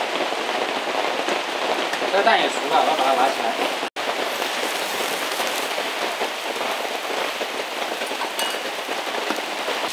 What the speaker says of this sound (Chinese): 大家可能听到那雨声在响